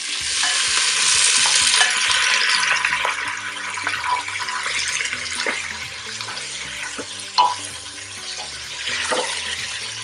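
Turkey pieces frying in olive oil with cassava leaves for Congolese pondu, a continuous sizzle with repeated scraping and knocking of a spoon stirring in the pan, plus a few sharper clinks, no talking.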